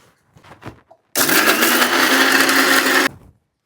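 A kitchen mixer grinder whirs loudly for about two seconds, grinding a spice paste with salt and turmeric for a brinjal fry, starting abruptly and cutting off sharply, with brief faint sounds before it.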